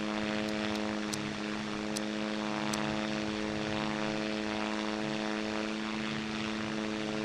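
Propeller airplane engine droning steadily through a flight in the QWOP-style game Ez Riser, a constant harmonic hum with a few faint high clicks over it and no talking.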